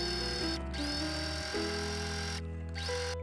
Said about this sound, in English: set my machine on the highest length thread, sewing 2 rows approximately a centimeter apart